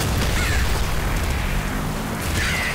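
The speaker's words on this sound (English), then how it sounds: "I can hear an explosion." A loud explosion in the top-down shooter game Nuclear Throne, a dense booming burst that fills the moment and rolls on under constant game noise without a break.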